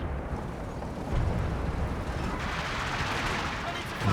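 Artillery fire and howitzer shelling in the video game Company of Heroes 2, a dense, continuous rumble of distant blasts and explosions that swells after the first second and holds steady.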